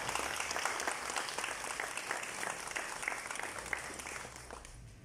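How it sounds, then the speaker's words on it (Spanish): Audience applauding at a CANIRAC awards ceremony as officials are introduced, sustained even clapping from a crowd at moderate distance with no voices. "Fuerte los aplausos."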